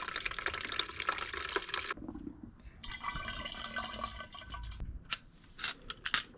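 Liquid pours and splashes into a DIY Detail Keg tank during filling, a steady broadband rush that pauses and resumes, ending with a few short sharp clinks and splashes.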